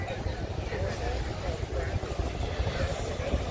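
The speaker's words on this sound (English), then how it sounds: "here comes the plane" At a rainy, cold airshow in Dayton, an aircraft passes with a steady, loud propeller and engine drone, and people talk excitedly over it.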